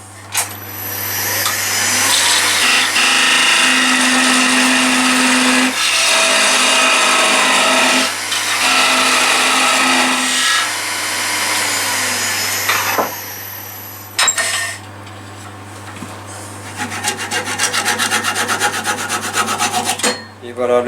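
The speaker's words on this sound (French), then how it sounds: "ensuite finir à la scie" A saw cuts through oak while shaping a pen holder: loud, continuous rasping strokes that break off briefly, then resume in quicker, choppier bursts.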